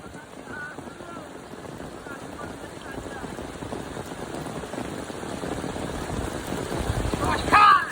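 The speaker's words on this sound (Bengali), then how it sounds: "এবারকার বৃষ্টির অবস্থা খুব একটা ভালো নয়" Rain falls over waterlogged jute fields as a steady, soft patter that grows slightly louder toward the end, mixed with some wind noise on the microphone.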